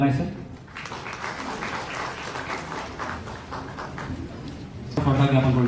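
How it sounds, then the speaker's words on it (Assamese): At a felicitation ceremony for a newly elected legislator, an audience claps in a continuous patter under a loud voice speaking over a microphone. "সকলোৱে এটি জোৰদাৰ হাত চাপৰি তেখেতক উৎসাহ আৰু উদ্দীপনা যোগাবৰ বাবে অনুৰোধ জনাইছে।"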